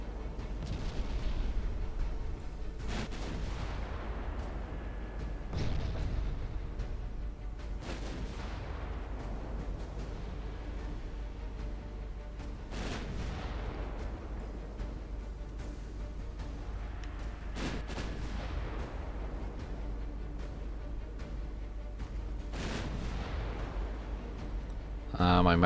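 Secondary guns on a warship fire in Ultimate Admiral Dreadnoughts, sending out repeated dull booms at irregular spacing over a constant low engine rumble while someone talks over parts of it.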